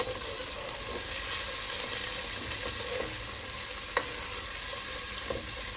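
Onions frying in oil for mutton capsicum, a steady broadband sizzle throughout with a few soft stirring clicks and scrapes, close and fairly loud, with no talking.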